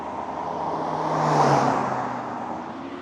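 A Porsche 9FF sports car engine at a Ferrari car meet, a broad roar swelling as it passes close by around the middle and easing off, with steady crowd and traffic noise behind.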